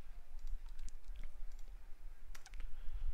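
Fingers typing a command on a computer keyboard, a quiet run of irregular key clicks with a short burst of faster taps near the end, over a low steady hum.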